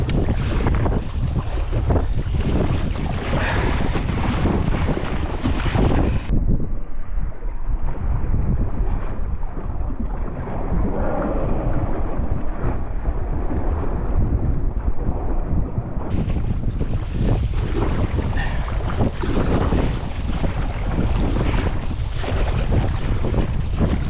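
Strong headwind buffeting the microphone over choppy sea waves during a solo sea kayaking trip toward Sundsvall, a loud, steady rush of wind and water lasting throughout, with no talking.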